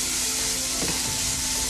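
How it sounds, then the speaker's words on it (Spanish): Lean, low-fat ground beef frying in a pan over medium-low heat, a loud, dense, continuous sizzle close up with a brief stirring scrape partway through and no voices. "Estoy utilizando carne de res bien limpia, bien baja en grasa. Estoy trabajando a fuego medio,"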